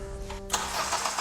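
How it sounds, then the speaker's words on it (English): A Honda Civic with a swapped engine cranks briefly and fires up, catching into a loud steady run right after the starter whir. "It's alive! It sounds good, kinda. Yeah, that started up easier than like every other car I've ever been in."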